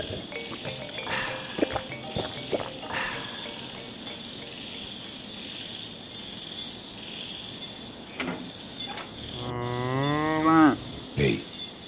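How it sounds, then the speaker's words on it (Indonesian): A cow moos once, loud and drawn out, near the end, after a long stretch of quiet outdoor ambience with insects and a few faint knocks. "mendengar suara sapi mengeluh"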